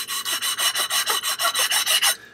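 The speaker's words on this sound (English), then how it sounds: "I'm going to have to roll these off with sandpaper" Sandpaper rubs the edges of a Naniwa Gouken Arata 10000 sharpening stone in about a dozen quick, even back-and-forth strokes, a close, bright scratching rasp with no other sound.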